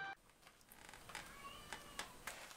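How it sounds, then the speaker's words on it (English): A domestic cat meows a few times in a dark room, the calls faint and spaced apart over a low background hiss. "Dumbass cat."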